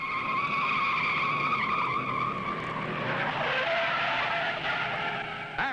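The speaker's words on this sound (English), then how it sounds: "Look out, 2 cars spinning." Race cars at the 1961 Indianapolis 500 spin and skid, a loud sustained squeal of tires with roaring engines that shifts pitch partway through as the cars slide, filling the whole stretch without pause.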